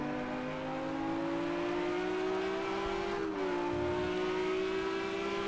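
GT3 race cars in the Project CARS 2 sim racing game at the Zhuhai circuit drone with a steady high engine note that dips briefly as a gear changes, then holds on at moderate loudness with no talk.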